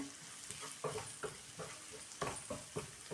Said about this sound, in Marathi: सर्व मसाले व्यवस्थित भाजून घेऊया.